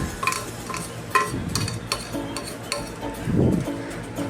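Jaggery being stirred into a mashed lentil puran filling in a pan, with close scraping and stirring strokes, a few soft thuds and faint sizzling, no talk.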